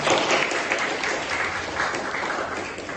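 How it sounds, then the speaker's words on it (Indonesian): Audience applause at an Indonesian university teaching-certification session, a dense steady wash of many hands clapping close by for the full length, with no voices over it. "kita kasih tepuk tangan dulu dong"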